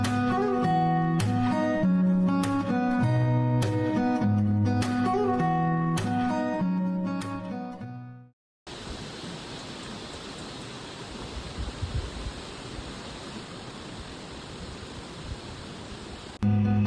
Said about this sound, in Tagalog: And now we are at the tallest among the 7 levels of the Budlaan waterfalls. This is known as Kabang Falls.